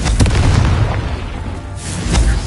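The Confringo explosion spell going off in Hogwarts Legacy, a heavy booming blast with a rumbling tail and a second burst near the end, loud and without talking.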